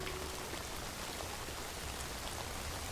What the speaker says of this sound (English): this texture pack also changes the rain sounds, making them way softer